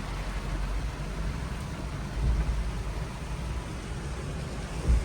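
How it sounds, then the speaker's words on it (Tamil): Heavy rain pours down in a forest, a dense, steady broadband hiss that continues without pause for the whole stretch, fairly faint and with no voices. "பாருங்க, அடி போட்டு பா வெளுத்து எடுக்குது மழை"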